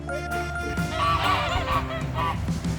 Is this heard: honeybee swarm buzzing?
no